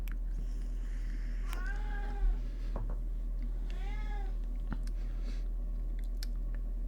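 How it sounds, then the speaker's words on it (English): A house cat meows twice in quick succession, the harmonic calls fairly close and clear over a low steady indoor hum, with a few small clicks and soft chewing-like noises around them; no one speaks. "I have fed the cat, by the way."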